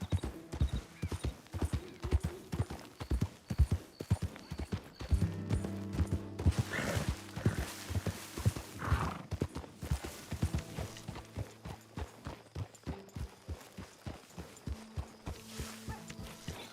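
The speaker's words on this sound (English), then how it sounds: "get that horse out of here" Horse hooves clip-clop steadily in a video game, a brisk, regular rhythm of close hoofbeats running throughout over a soft background.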